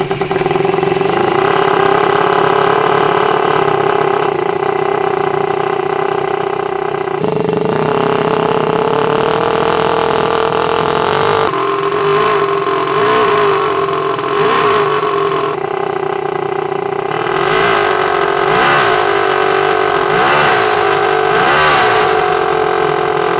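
A small engine fitted with a 3D-printed straight pipe exhaust runs loud and steady with a raw, buzzy exhaust note, revving up and down in several surges.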